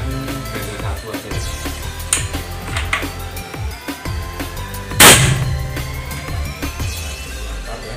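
An SP Black Mamba .177 air rifle with a seamless air tube fires one sharp, loud crack around the five-second mark, amid scattered clicks and handling noise.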